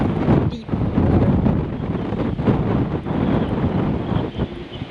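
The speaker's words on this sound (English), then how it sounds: "You hear the halyards blowing, and the wind blowing hard, rain's coming on significantly." Hurricane-force wind roars steadily and loudly against the microphone in a flooded marina during Hurricane Sally, with halyards rattling and slapping faintly underneath the constant gusting rush.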